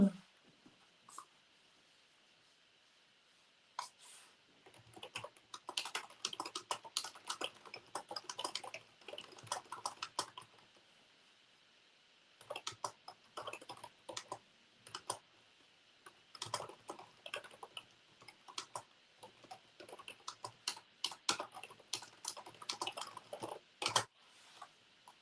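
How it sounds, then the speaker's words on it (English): Quiet bursts of typing on a computer keyboard, rapid irregular key clicks in clusters separated by silent pauses, close and soft. "I'm going to type it in the chat."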